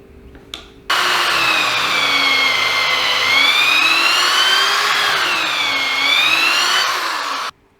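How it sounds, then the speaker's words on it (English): Power drill pre-drilling screw holes in dry, 80-year-old reclaimed wood clamped for a raised garden bed, one steady loud whine held for about seven seconds with a slight wavering pitch, starting and stopping abruptly. "I'll clamp the sides together and pre-drill before I put in the screws to make it a little bit easier."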